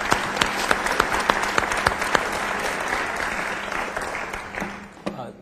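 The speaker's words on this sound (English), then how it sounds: "Let's give a big round of applause to Ed and Corey." Audience applauding two speakers at a talk, a few sharp individual claps first, then steady clapping that slowly thins out toward the end.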